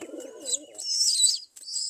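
Pigeon chick being hand-fed, making close, high squeaky calls and chirps, with a low coo-like sound at the start and a brief gap before the calls resume.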